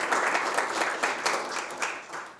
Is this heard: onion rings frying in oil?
no